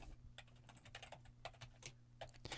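Typing a password on a computer keyboard: a quick run of close, crisp key clicks in an irregular rhythm, heard alone at low level.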